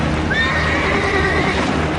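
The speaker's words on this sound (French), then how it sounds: "les chevaux qui nagent derrière l'embarcation se débattent et disparaissent sous les flots" Horses neighing while struggling in a lake, one loud drawn-out whinny rising then sliding down over a constant heavy rumble of water and noise.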